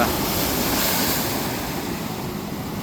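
Strong waves crashing in the Davao Gulf, a loud steady roar of surf with wind buffeting the microphone, continuous and close.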